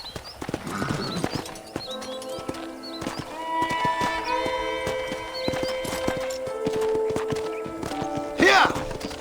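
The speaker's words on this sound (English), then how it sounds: "I picked out a fine horse for you." Horse hooves clip-clop steadily at a walking pace in the video game Red Dead Redemption, set against music and ranch ambience, with a brief whinny near the end.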